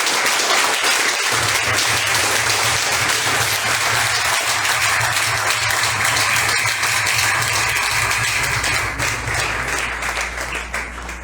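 A church congregation applauds loudly in a sustained, dense burst during a worship sermon, steady clapping filling the room for over ten seconds while a low organ or keyboard drone hums underneath, tapering slightly at the end.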